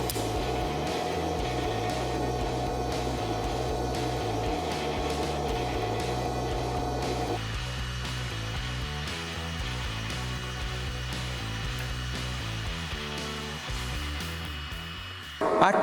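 Steady TIG welding arc on 2 mm steel sheet without filler rod at 75 amps, a continuous close buzzing hiss that shifts slightly in tone partway through and holds on alone without talk.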